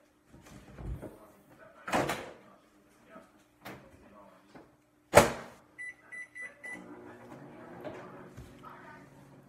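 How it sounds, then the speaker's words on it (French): A microwave oven door clunks open and shut amid kitchen handling knocks, then the oven hums while running with a square steamer of salmon and vegetables inside; someone talks at moments. "Et micro-ondes."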